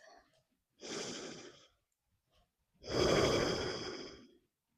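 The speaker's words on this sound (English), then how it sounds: "Take one more breath." Deep, slow yoga breaths from a single person, close by: a soft inhale followed by a longer, louder, airy exhale, with quiet pauses between them.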